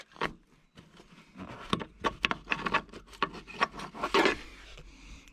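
Parts being worked loose from the distributor of a 1964 Impala ignition while removing the old rotor, giving a close run of small scraping, rubbing and clicking sounds in irregular bursts, with no talking.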